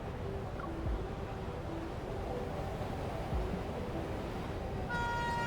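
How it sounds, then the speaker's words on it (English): In the video game Love and Deepspace, a train rumbles past in a steady, loud, rushing clatter that builds to a sustained multi-tone horn blast at the end. "The train's headlights cut through the darkness."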